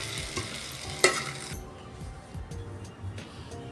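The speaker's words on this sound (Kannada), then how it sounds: "ಓಕೆ ಕೊತ್ತಂಬರಿ ಎಣ್ಣೆ ಹಾಕಿ ಆಡ್ಸೋದು" A spoon stirs yellow upma with oil and coriander in a pan, scraping and clinking once against the metal over a soft sizzle, with quiet talk in the background.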